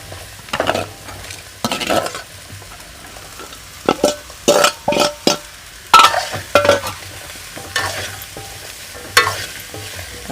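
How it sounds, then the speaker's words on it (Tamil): Bottle gourd pieces sautéing with reddened onions in a pan for a moong dal kootu, with repeated stirring scrapes and a steady sizzle in bursts, close and fairly loud, no talking. "இப்போ நம்ம காயை அதில் போட்டு நல்லா வதக்குவோம்."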